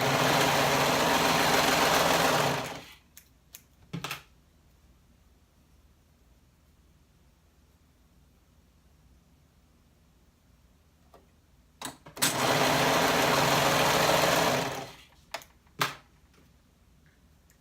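Sewing machine running along fabric waistbands, two sustained buzzing runs of a few seconds each with a long quiet gap and a few short clicks between, close and alone.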